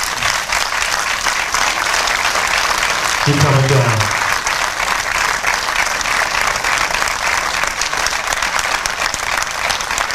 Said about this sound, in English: Please give these young men a round of applause